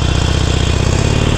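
A 2019 Harley-Davidson Iron 883 motorcycle engine running close up: a loud, steady, lumpy V-twin throb with a fast even pulse throughout the short stretch, alone with no voices.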